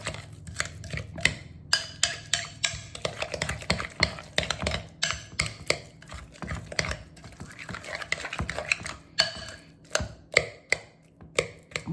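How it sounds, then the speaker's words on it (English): Sweet potato being mixed with butter, brown sugar and cinnamon, a close series of soft scraping and tapping strokes of a utensil against a bowl in an irregular rhythm, with no talking. "I'll keep mixing it all up until my butter softens."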